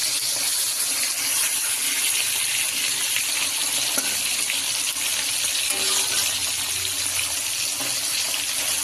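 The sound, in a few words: bata fish frying in a pan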